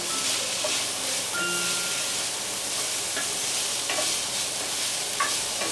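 Banana peppers sauté in a hot pan while a utensil stirs them through a steady, close sizzle, with occasional light scraping and no talking.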